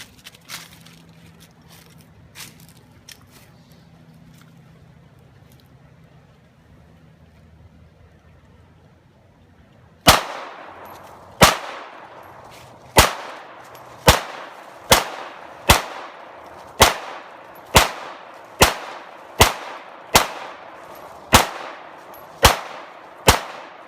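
Firearm shots from target shooting outdoors, about a dozen sharp loud cracks at a fairly steady pace after a quiet stretch of faint background sound.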